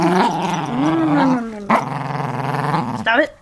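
A toy poodle growls and snarls in close, rising and falling bursts with brief pauses, while a person talks over it.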